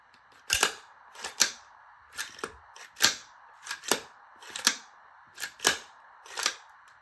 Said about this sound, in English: if you listen to standard buffer spring, a lot more metallic and clanky